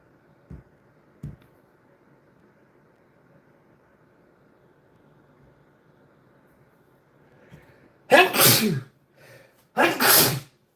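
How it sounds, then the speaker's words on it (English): Two loud, close sneezes burst out back to back near the end, following a long quiet stretch with faint low background hum and a couple of soft taps. "I sneezed."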